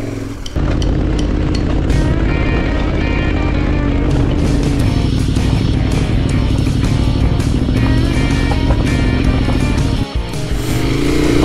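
Motorcycles ridden on a dirt trail, a steady loud engine drone with throttle rising and falling close by throughout, briefly dipping near the end.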